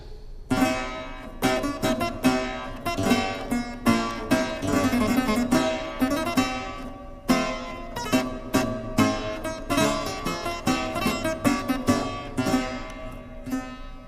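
Historical keyboard instrument with shared strings, played alone with plucked or struck notes in a lively rhythm, bright and resonant from a free-sounding soundboard, close and clear with no voices.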